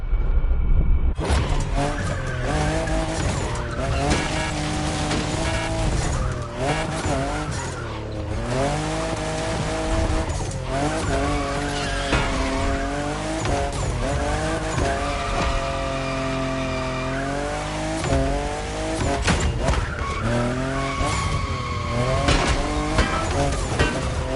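A fifth-generation Toyota Supra race car skids and drifts in The Crew Motorfest, its engine revving and tires squealing loudly and continuously with rising and falling pitch, over music.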